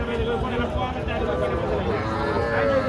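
Sahiwal-cross and local female calves and cattle low and moo at a busy livestock market, the calls overlapping steadily throughout amid a dense hum of crowd chatter and people talking nearby.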